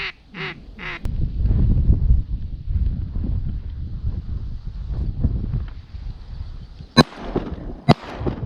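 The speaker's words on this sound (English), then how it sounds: "just shot a double on green" Duck calls quack near the start, then a loud outdoor rumble of wind and movement from a canoe blind during a duck hunt, broken by two sharp, loud shotgun blasts about a second apart near the end.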